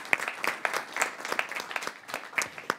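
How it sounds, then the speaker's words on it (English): An audience at a panel discussion about the U.S. Export-Import Bank applauds, with scattered, fairly faint clapping that stays uneven throughout. "Give him a big round of applause also."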